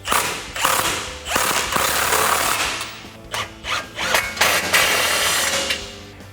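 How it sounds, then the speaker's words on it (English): A ratchet with a 17mm socket clicks steadily while tightening the upper control arm bolts on a 2014-2020 Ford F-150 suspension lift, close and continuous with brief pauses, no voices. "we can take a 10mm Allen wrench and a 17mm socket to tighten"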